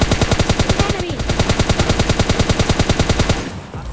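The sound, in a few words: gunfire in the video game PUBG Lite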